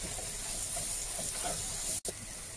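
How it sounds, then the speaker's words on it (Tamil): Salt, turmeric, chili powder and garam masala sizzle as they are sautéed in a pan for Indian-style macaroni, a steady close frying hiss broken briefly near the end. "இதோட உப்பு, மஞ்சத்தூள், மிளகாயத்தூள், கரம் மசாலா தூள் சேர்த்து நல்லா வதக்கிக்கலாம்."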